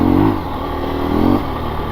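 A 2024 KTM 350 EXC-F dirt bike engine revs loud and close, two brief swells of throttle rising over a steady running drone, with no voices.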